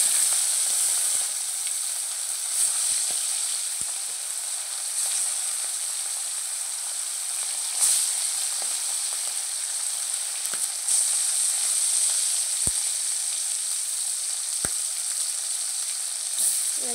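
Small chela fish frying in hot oil in a village-style kitchen, a loud continuous sizzle with scattered sharp pops and clicks, heard alone without speech.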